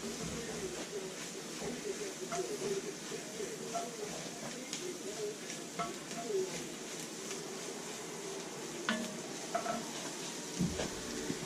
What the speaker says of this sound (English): 2 cloves of chopped garlic in there now. Stir that up a bit till it gets kind of fragrant.